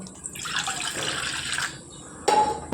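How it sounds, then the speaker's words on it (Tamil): Water is poured from a tap onto a lemon-sized lump of tamarind to soak it for village-style green gram sambar, giving a close, steady splashing stream that pauses briefly before resuming. "இப்போ அதை தண்ணியை ஊற்றி ஊற வச்சுக்கலாம்"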